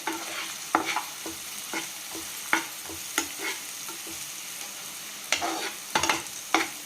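Vegetables for veg manchurian frying in a pan, a steady sizzle broken by sharp scraping stirs of a spoon at irregular intervals, close and fairly loud.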